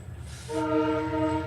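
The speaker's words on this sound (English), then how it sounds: "Oh, that sounds like the train." A luxury hotel train passes by Lake Titicaca and sounds a loud, sustained multi-tone horn over its low rumble, with no talk over it.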